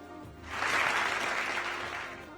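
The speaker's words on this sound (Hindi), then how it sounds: "बहुत देर में तालियां बजी।" Studio audience at a televised Ramadan quiz competition breaks into a swell of applause, rising quickly, holding steady for a couple of seconds and tapering slightly, with no talk over it.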